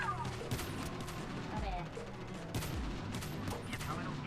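Rapid bursts of gunfire from a Call of Duty Mobile battle royale match ring out continuously, with repeated volleys and sharper shots over a busy in-game backdrop, with no voice on top.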